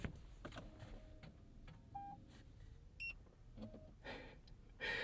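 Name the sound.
Toyota Highlander Hybrid start beep and dash cam beep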